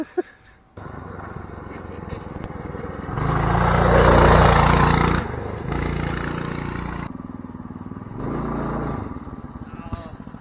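Small engine of a homemade budget wheelie trike, roughly 12 horsepower, revving up loudly then easing back and revving again, with people talking over it.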